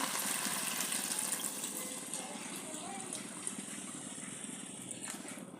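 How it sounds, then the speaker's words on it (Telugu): Water poured onto rice in a pot for vegetable biryani, a steady, fairly close gushing stream that tapers slightly toward the end, with a voice talking over it. "ఇప్పుడు మనం వాటర్ పోసుకుందాం"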